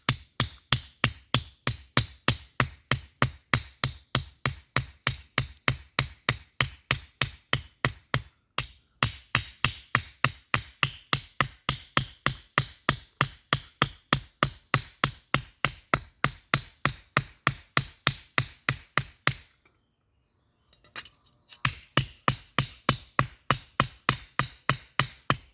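Junk steel knife blade struck on an anvil stone, a long steady run of sharp metallic hammer blows in close, even rhythm, pausing briefly twice before the strikes resume.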